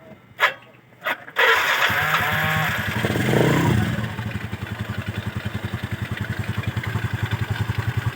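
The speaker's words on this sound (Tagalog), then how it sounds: "O kasi naririnig yung smooth naman pero ang maingay yung carb niya." A Kawasaki Fury motorcycle with a converted cooling system starts after a couple of clunks, then idles in a steady, rapid throb with a noisy, rattling carburetor.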